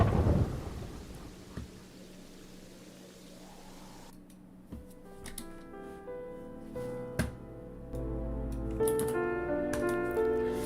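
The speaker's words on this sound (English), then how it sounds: "There's a storm in game in IRL." A thunderstorm rumbles in Terraria with the Calamity and Redemption mods, with low rolling thunder and steady rain hiss. Sharp crackling strikes arrive over a layer of game music, moderately loud and continuous.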